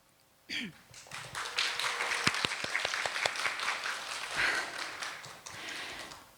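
The audience at a youth mental health program policy forum claps together in greeting to all participants, starting abruptly and continuing as a full, steady round with some sharper individual claps audible.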